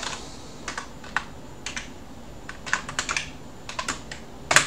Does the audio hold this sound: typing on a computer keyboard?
yes